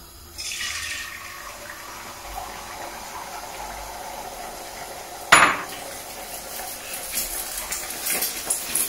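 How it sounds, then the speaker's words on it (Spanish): Beaten egg poured into hot oil in a pan for Chinese three-delicacies fried rice, a sharp sizzling burst that follows quieter kitchen clatter, then continues as crackling frying noise. "Ahora echamos el huevo batido."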